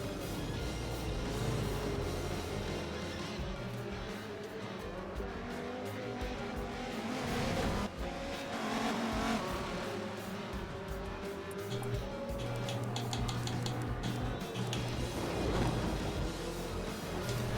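Race cars in Forza Motorsport 7 at Rio de Janeiro roar continuously, engines revving and shifting with occasional tire squeal. Several cars blend into a dense, steady motor drone throughout.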